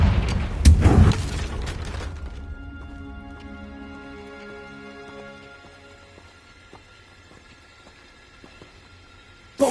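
A Confringo fire-blast spell cast in Hogwarts Legacy, one loud booming burst up front followed by a long ringing, shimmering decay that fades to near silence before a small final pop.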